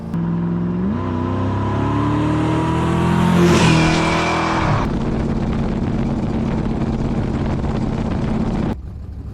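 A car engine fitted with a Thermoquad carburetor revs up and accelerates hard, pitch climbing then settling into a steady loud roar, close by, with a brief squeal midway.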